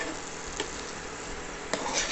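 Cabbage fry with turmeric being stirred in a pan, giving a steady soft sizzle with scraping strokes of the spoon against the pan, including a sharper one near the end, with no talking.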